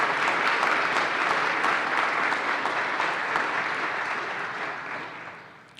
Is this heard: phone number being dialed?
no